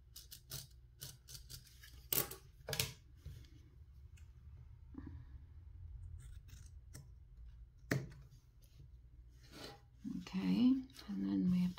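Scissors snip through fabric during slow hand stitching, with scattered close crisp cuts and rustling between quiet gaps and a brief murmur of voice near the end.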